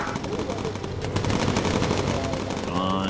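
Bomber turret machine guns rattle in the video game Bomber Crew, a dense, loud continuous burst of rapid fire throughout with engine drone beneath.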